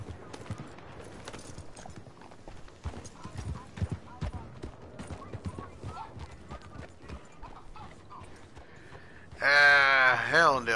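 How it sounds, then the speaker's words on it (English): A horse's hooves clip-clop approaching at an uneven trot in Red Dead Redemption 2, getting closer, then the horse gives a loud whinny near the end. "Where's my damn horse? I'm waiting for my horse to show up."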